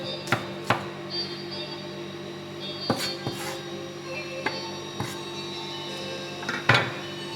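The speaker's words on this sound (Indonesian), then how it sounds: "Nah, ini saya potong tahunya ya." A knife chops tofu on a cutting board in a home kitchen, with a series of crisp, irregular knocks that come close and fairly clear, some single and some in quick pairs, over a steady low background hum.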